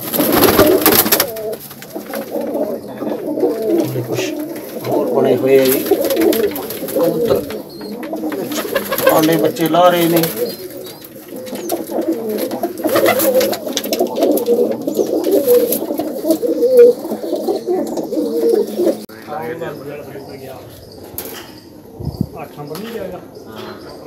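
Pakistani Kalsra (Teddy) pigeons coo in a low, continuous, overlapping chorus close by, while someone talks over them almost throughout.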